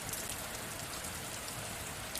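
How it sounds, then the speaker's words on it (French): Steady, even rain hisses from afar, a soft continuous wash of drops with no breaks or other sounds. "Et continue à entendre cette pluie au lointain"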